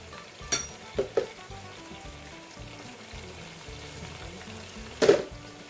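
Tomatoes and tomato puree frying in a pan for tandoori chicken karahi, a soft continuous sizzle broken by a few sharp clinks of a spoon stirring against the pan.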